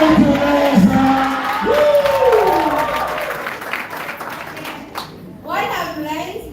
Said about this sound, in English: you all say, hi, Teresa, and then you all clap your hands